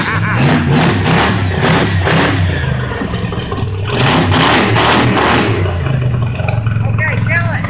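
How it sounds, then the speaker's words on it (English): Project car engine cranks, fires and runs with no coolant, revving in loud uneven bursts and clattering close by, with people talking over it. "Okay, ignition, fuel pump, starter."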